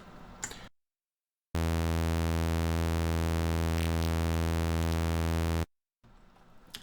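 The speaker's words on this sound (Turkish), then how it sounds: "Bayağı tıslamaya benzer sesler de gelebiliyor." Steady synthesized tone from an Xfer Serum software synthesizer, a dense buzzing hiss-like drone with stacked harmonics that starts abruptly, holds loud and unchanging for about four seconds, then cuts off.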